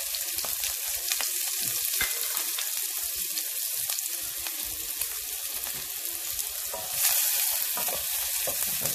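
Onion sizzling in melted butter in a pan, a bright crackling fry with small pops and occasional stirring scrapes, close and steady, briefly swelling louder near the end with no talk.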